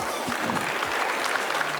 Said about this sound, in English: Which deserves a huge round of applause.